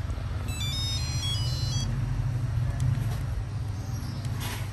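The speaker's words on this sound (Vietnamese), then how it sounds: "Kiểu chuông, mức chuông 5" A Nokia 8310 mobile phone plays its monophonic ringtone at volume level 5, a bright beeping melody of short stepped tones near the start, then fading into background hum and faint handling noise with no talking.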